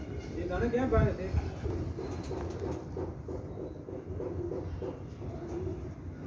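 Pigeons cooing in repeated low, rhythmic calls, with a voice speaking over them near the start.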